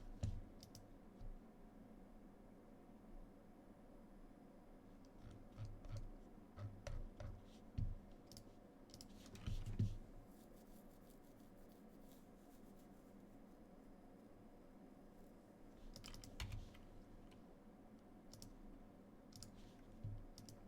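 Computer mouse clicks scattered through a Magic card game, coming as sparse, soft, close clicks over a quiet room hum, with a few denser bursts and no talking.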